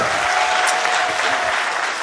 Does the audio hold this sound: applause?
yes